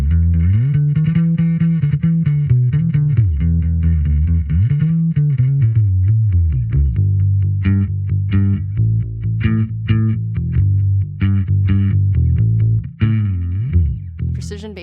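A Fender American Professional Classic Precision electric bass plays a low, sliding melodic line, close and prominent, with some effects coloring the tone and busier plucked notes toward the end.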